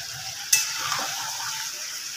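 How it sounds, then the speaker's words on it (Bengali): Chicken and tomatoes sizzle steadily in a pan, with a sharp clink of a utensil against the pan and stirring scrapes riding on a continuous close frying hiss. "চিকেনটাকে আমি আরও একটু কষিয়ে নেব"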